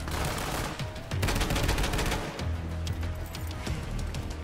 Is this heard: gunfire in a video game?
yes